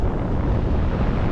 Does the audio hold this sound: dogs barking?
no